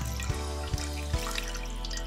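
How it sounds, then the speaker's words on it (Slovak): Cold tap water pours over hot cooked rice noodles in a kitchen sink, a steady splashing rush with a low hum and a few sharp knocks and clatters. "preto si ich prelejeme ešte studenou vodou"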